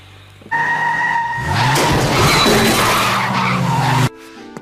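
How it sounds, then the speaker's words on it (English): A cartoon car skids with a long, loud tire squeal over engine noise, lasting several seconds before cutting off abruptly. "Peter's getting in the car."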